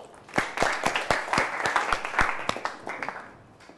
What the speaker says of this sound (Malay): Dipersilakan beri tepukan untuk Amin.